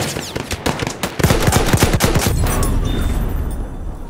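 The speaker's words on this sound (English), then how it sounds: "Machine gun!" Rapid machine gun fire in Battlefield 1, a dense string of sharp reports that peaks in the middle and then trails into echoing battle noise, loud and close.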